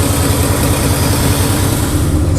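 A 1979 Chevrolet engine idles with a misfire, a loud, continuous low rumble close by, steady and with no talking.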